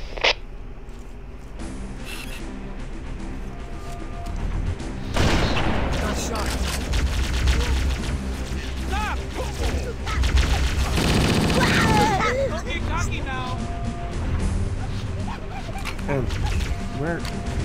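Sustained automatic gunfire bursts from a Halo firefight, loud and dense for long stretches, with dog-like yelps and effects mixed in and voices talking over parts of the battle.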